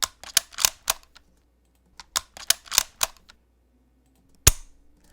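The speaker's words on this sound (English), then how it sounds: "Let's hear the cocking." Medieval crossbow being cocked for game sound effects: a run of sharp wooden-mechanical clicks and ratchet snaps in uneven bursts, close and dry, with a pause and then one louder final snap.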